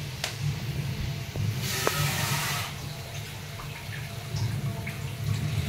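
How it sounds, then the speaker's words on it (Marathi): Half a glass of water pours into a pot of cooking dal in a short, steady rush lasting about a second, then stops, leaving a low kitchen hum. "मी ह्याच्यामध्ये आता थोडंसं अजून पाणी घालणार आहे, अर्धा ग्लास।"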